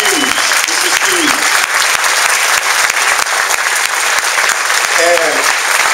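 A crowd at a surprise birthday and relaunch gathering for a business group in Elk Grove breaks into loud, sustained applause that fills the whole stretch, with a few voices calling out over the clapping.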